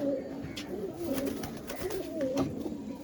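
Andhara pigeons coo in short rolling calls close by, with a few flutters and rustles mixed in over a soft background.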